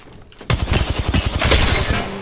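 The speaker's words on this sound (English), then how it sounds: "Listen up, I'm getting shot at." Automatic weapon fire in the video game Apex Legends: a sharp, loud volley of rapid rhythmic shots that starts abruptly after a brief quiet moment and runs on into a noisy blur of gunfire.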